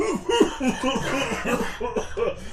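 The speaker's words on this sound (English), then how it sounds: "You made me cough for real." A person coughs repeatedly in a quick rhythmic burst, close up, the coughs running together almost like laughter.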